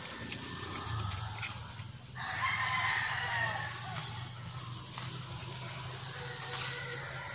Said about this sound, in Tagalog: Kinakahig ng manok.